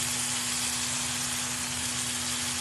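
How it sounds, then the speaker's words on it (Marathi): Finely chopped onion sautés in a pan for a shev bhaji curry, giving a loud, steady, close hiss of frying with no breaks. "आता आपण बारीक चिरलेला कांदा घालू परतून घेऊ"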